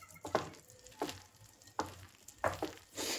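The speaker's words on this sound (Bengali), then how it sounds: "এবার ভালো করে মিশিয়ে নিচ্ছি" Prawn pakora batter is stirred by hand with a little water added, producing about five distinct wet stirring strokes in an uneven rhythm, close and clear with no voices.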